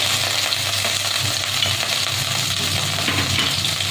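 Prawns frying in oil with a little salt and turmeric, a loud, dense, continuous sizzle with occasional stirring scrapes, close and without talk.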